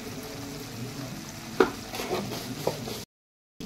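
Greens with shrimp cooking as sugar is stirred in, a soft simmering sizzle with a few distinct scrapes of a spoon against the pot, fairly quiet, before the sound briefly cuts out.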